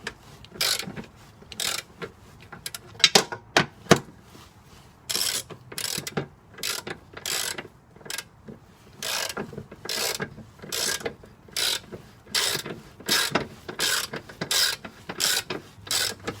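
A ratchet wrench tightens a bolt on a transmission mount of a Jeep ZJ with a 5.2L engine and 46RH transmission, in repeated bursts of clicking with short pauses between them, close and fairly quiet.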